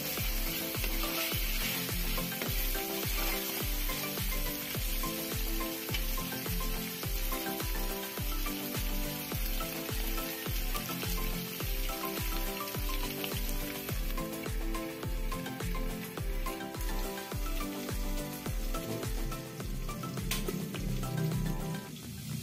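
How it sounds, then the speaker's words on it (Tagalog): Pork adobo sizzling in a pan as it is stirred, a loud, dense, continuous crackle with a regular rhythmic pulse running steadily throughout. "Halu-haluin lang natin ulit."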